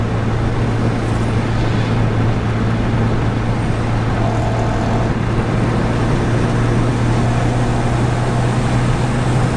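Dodge SRT8 cruising in fifth gear, a loud steady engine drone with road and wind noise heard from inside the cabin, continuous and unbroken.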